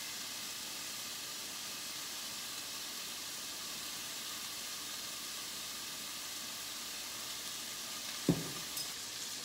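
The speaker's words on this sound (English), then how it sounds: "So the chicken is now cooking." Chicken cooks in a pan for a from-scratch chicken pot pie, giving a soft, even sizzle and hiss throughout, broken once by a brief clink late on; no voices.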